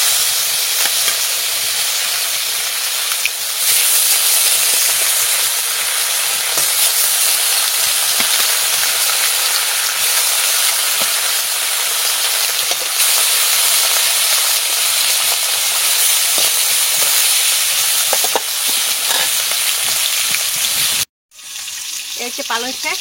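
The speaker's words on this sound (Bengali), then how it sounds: "তেল গরম হয়ে গেছে, মাছ ভাজা বসাই দিচ্ছি।" Fish pieces seasoned with salt and turmeric fry in hot oil, giving a loud, steady sizzle and hiss that continues almost unbroken, with a brief cut to silence near the end.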